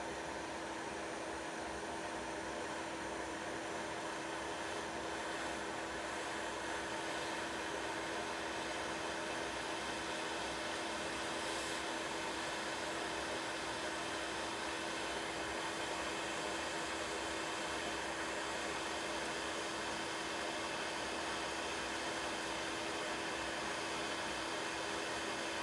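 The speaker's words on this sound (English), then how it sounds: "Then I'll heat it up with my hot air soldering station until the solder melts" Hot air soldering station blowing heat onto a laptop board to melt solder, a steady, continuous airy hiss like a hair dryer, close and unbroken throughout with no talk.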